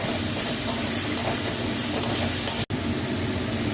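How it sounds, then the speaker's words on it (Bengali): Turmeric and salt sautéing in a hot pan, a loud continuous sizzling hiss that fills the whole stretch with only a brief cut-off near the end, close and without voices. "এবার হলুদটা দিলাম, এবার নুন দিলাম, এবার আমি কষে নেবো"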